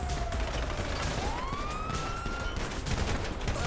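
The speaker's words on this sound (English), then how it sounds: "you hear that? Sirens" A wailing police siren rises and falls against a dense, noisy background with scattered bursts like distant gunfire; no voices.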